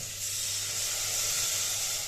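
Water hitting a hot pan of spiced rice with masala, a steady loud hiss and steam sizzle held throughout with no speech.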